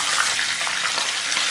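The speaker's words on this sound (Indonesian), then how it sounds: "Kita mau goreng terlebih dahulu ikan bandengnya." Milkfish sizzles in hot oil in a wok, a dense, steady crackling hiss that carries on without a break for a moment, with no talking over it.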